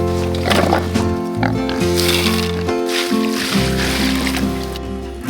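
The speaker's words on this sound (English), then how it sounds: "it's a lot easier to feed these pigs because they will squeal non-stop until they get their" Pigs squeal loudly and continuously for food on a snowy farm, high harmonic cries overlapping and shifting pitch throughout, with a voice talking over them.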